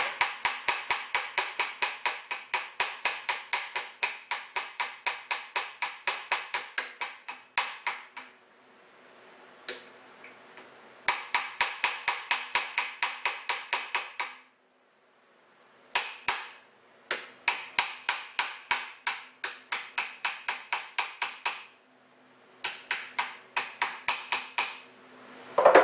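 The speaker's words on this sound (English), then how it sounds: "holding this bushing on the end and tapping on that." Rapid, sharp metallic taps strike a bushing on a Diamond Pacific Titan Gem Maker polishing wheel, coming in dense rhythmic bursts of many quick hits separated by short pauses, loud and close with no talking.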